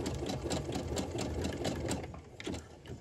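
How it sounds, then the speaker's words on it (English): A sewing machine backstitches elastic on pyjama bottoms, running in a fast, even mechanical patter close to the mic with a brief pause before it resumes. "Backstitch all the way back up one more time."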